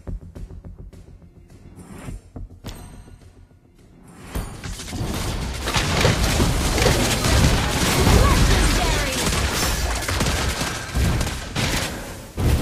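Granger's gun fires in the Mobile Legends video game: a dense barrage of shots with booming impacts and whooshing effects swells loudly after a quieter opening and carries on amid game sound.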